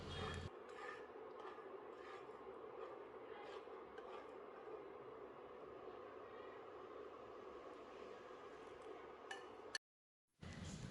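Gram flour batter stirred into sugar syrup for ghee Mysore pak makes a faint, continuous scraping rub in a pan, steady and quiet, cut by a short silent gap near the end.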